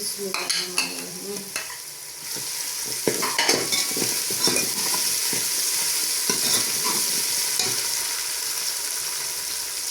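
Onions with ginger garlic paste and green chillies fry in a hot pan for kadhi pakora, giving a steady sizzle over the whole stretch with repeated stirring scrapes and clinks, fairly close and with no talking.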